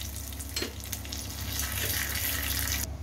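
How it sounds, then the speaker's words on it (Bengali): Nigella seeds and a bay leaf sizzle steadily in hot oil left over from frying pabda fish, a loud, continuous crackling hiss that holds for the whole span with no talking. "আমি মাছ ভাজা তেলটার মধ্যেই দিলাম, কালো জিরে ফোড়ন দিলাম, একটা তেজপাতা দিলাম"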